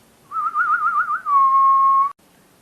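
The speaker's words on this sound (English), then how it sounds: "Listen, I am whistling." A person whistles alone at close range, first in a quick warbling trill and then in one steady held note before cutting off sharply.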